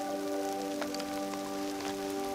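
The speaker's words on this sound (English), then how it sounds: "Here comes the rain again, taking a break." Steady rain falls and patters on a surface during an outdoor pilgrimage walk, a constant close hiss with a few sharper drops, heard alone with no voices.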